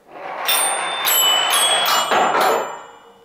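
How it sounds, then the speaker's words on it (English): A ball rolls down a ramp at Woolsthorpe Manor, Isaac Newton's house, striking four small bells in turn: four bright rings spaced about half a second apart over a rolling rumble, close and clear. "Roll a ball down the ramp to make the four bells ring."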